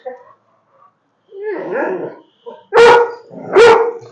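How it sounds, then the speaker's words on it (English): A dog nearby makes a few whiny yips and grumbles, then lets out two loud, excited barks. "That's a play bark."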